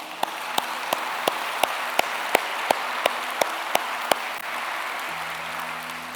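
A church congregation applauding Jesus during a live worship service, a soft wash of crowd clapping with a dozen sharp, evenly spaced claps standing out near the front, fading as a voice begins.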